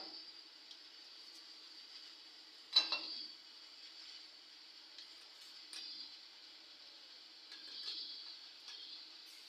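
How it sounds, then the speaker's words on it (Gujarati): Mustard seeds, cumin and curry leaves sizzle quietly in hot oil with a steady faint hiss, one sharper crackle and occasional light stirring clinks. "તેલ ગરમ થઈ ગયું છે તેમાં મેં રાઈ જીરું નાખી દીધા છે ને રાઈ જીરું તતડી ગયા છે હવે તેમાં નાખી દઉં મીઠો લીમડો"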